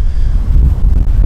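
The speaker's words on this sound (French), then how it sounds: "Oh, il y a du vent hein." Strong wind buffeting a microphone outdoors in Osaka, Japan, a loud continuous low roar with gusty fluctuations filling the whole moment, no voice over it.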